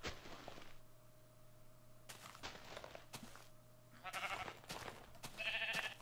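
A few soft sheep bleats from the Minecraft video game, Beta version, mixed with footsteps and hit sounds, faint and quiet with little else around.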